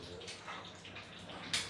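Limewater, 100 ml of the clear liquid, pours softly into a bowl for spicy rose cookie batter, a quiet continuous trickle with a brief brighter splash near the end.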